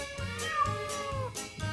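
A cat meows repeatedly, four or five short, close, clear calls in quick succession against a faint steady background tone.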